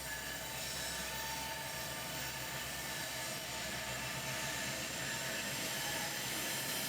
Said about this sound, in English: Now Metra passing underneath.